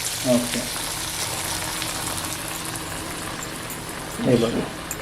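Small chana dal vadas (masala vadas) are slipped into hot oil, and a steady broad frying hiss follows, with two brief louder bursts as pieces go in. There is no clear talk.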